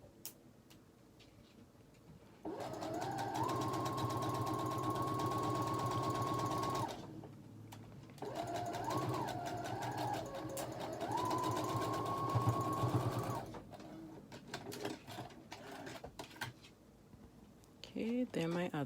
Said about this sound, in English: I'll start here at the corner. Do a back stitch.